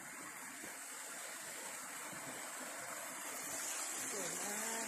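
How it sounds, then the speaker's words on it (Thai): A waterfall spilling down from high mountains at Hin Sam Chan in Loei gives a constant soft rushing roar, steady and moderately distant, with a brief voice rising faintly near the end. "อันนี้เป็นน้ำตกที่ไหลมาจากเทือกเขาสูงเลย"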